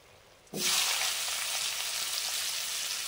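Dried red chilli dropped into hot oil for a Bombay duck curry, where brinjals were lightly fried just before; a sudden loud sizzle bursts up and then holds as a steady close hiss.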